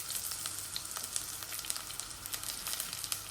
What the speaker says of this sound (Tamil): நல்லெண்ணெய் இப்படி நல்லா கொதிச்சு வரைக்க கொஞ்சம் கடுகு, பெருஞ்சீரகம், சீரகம், ஒரு கொஞ்சம் வெந்தயம், வெட்டி வச்ச வெங்காயம்